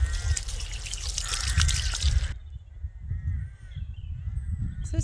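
Water trickles and drips onto a newly planted tree outdoors, a close, uneven splashing that cuts to a quieter patter partway through, with faint bird calls in the background.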